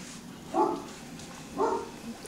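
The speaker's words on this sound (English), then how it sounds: "You hear the puppies?" Two yappy barks from Chocolate Great Dane puppies a second apart, moderately close, with a faint third yip after them over a low background hum.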